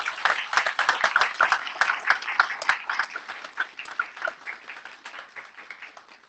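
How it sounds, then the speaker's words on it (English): Audience applause at a school presentation day, a dense patter of hand claps that peaks early and then gradually fades away. "Can we have a big round of applause"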